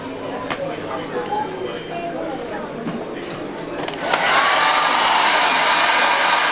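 A handheld hair dryer blows a steady loud whoosh that switches up to a stronger, brighter roar partway through while hair with fibers is dried near the hairline; a voice talks quietly under the early part.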